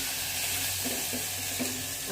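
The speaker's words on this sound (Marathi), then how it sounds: "त्याच्यामध्ये मी हे काजू घालून घेते." Cashews frying and being stirred in a pan while making masale bhaat, a steady close-up sizzle with a few soft scraping strokes of the spoon and no talking.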